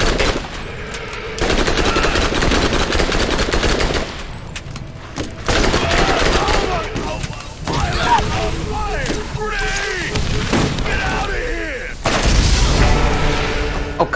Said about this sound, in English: thank you for just standing there and taking my shots